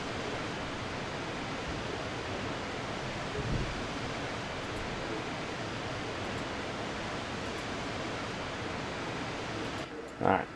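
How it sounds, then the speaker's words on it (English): A waterfall in the Farming Simulator 22 video game gives a steady, broad rushing roar of falling water that holds evenly throughout, with a brief knock near the end. "you just start hearing the waterfall right here, and it gets louder once you get there."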